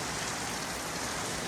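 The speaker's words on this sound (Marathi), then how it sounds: "तर आता पाऊस आहे म्हणून जरा बसूया घरात." Rain falls steadily outside a house, making a dense, even hiss of drops on surfaces that stays constant and close, with no voices.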